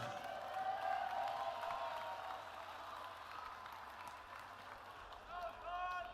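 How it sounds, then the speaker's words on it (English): A fight-event audience applauds both athletes after a bout, a steady wash of clapping and crowd noise with a few cheers, moderately distant, under an announcer's voice. "Ladies and gentlemen, a round of applause for both of these athletes,"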